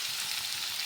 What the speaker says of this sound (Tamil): தக்காளி தேவையான சால்ட்டு போட்டு வதக்கிக்கோங்க